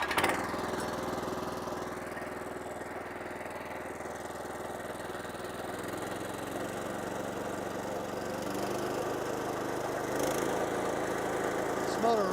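A 14 horsepower Kohler engine on a Power King stump grinder runs at a steady idle-to-running drone, loud and close, holding an even throb for about twelve seconds.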